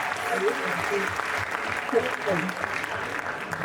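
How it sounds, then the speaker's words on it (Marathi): A college audience at a live comedy show in Pune claps with steady, moderately loud applause, while voices murmur beneath and through it. "अरे श्रवणसाठी जोरदार टाळ्या मित्रांनो या."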